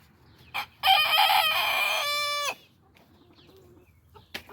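A rooster crows once, loud and close, a long drawn-out call with a rising start and a sustained ending, against quiet background rustle on a farm.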